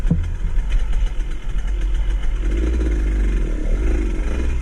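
A dirt bike engine running steadily close by, a loud continuous low rumble with a slight rise in revs partway through and no voices over it.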